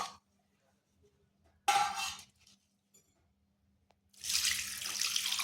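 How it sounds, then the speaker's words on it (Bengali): Raw potatoes being rinsed under a running kitchen tap, with a short burst of flowing water early on, then near-quiet, and a longer steady stream of splashing water at the end, close by and with no talk. "এরপর আলুটাকে ভালোভাবে ধুয়ে নিতে হবে"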